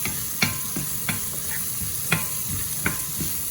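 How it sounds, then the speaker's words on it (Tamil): Vegetable rice being stirred and sautéed in a pan: a faint steady sizzle runs throughout while a spoon scrapes and knocks against the pan in irregular strokes, close by and with no voices. "இது ஒரு 3 நிமிஷம் வதக்கி விடுவோம். வடிவா எல்லாம் சேர்ற மாதிரி வடிவா கிளறி போட்டு"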